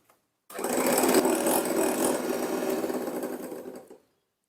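An electric mixer beats homemade marshmallow mixture in a bowl, a loud close motor whir starting abruptly, holding a steady buzzing drone for about three and a half seconds, then stopping, with no voices.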